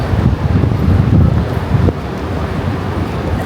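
Strong wind in Taiwan buffets the microphone in a continuous low rumble, gusting harder at first and then easing slightly.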